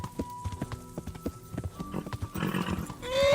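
A horse gallops in the medieval video game Kingdom Come: Deliverance, its hooves thudding in a quick, steady rhythm at close range, with faint ambient game sound rising toward the end.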